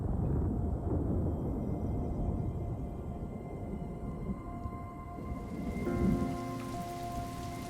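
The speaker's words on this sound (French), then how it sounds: "Et quand il pleut ici, ce sont des trombes d'eau." Heavy rain pours down on arid plains in a steady, dense roar, loud and continuous with no voices, easing slightly near the end.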